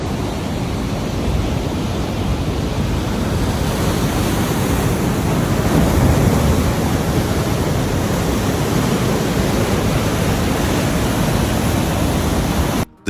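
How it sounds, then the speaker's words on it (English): Storm surf pounds New York's beaches during coastal flooding: a steady, loud, wide roar of breaking waves that continues without pause, with no voices. "New York's beaches vanish under angry surf"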